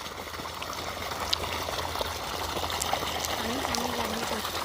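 Water from a new farm borewell trickles and gushes steadily in the open, a constant rushing flow under speech and background voices.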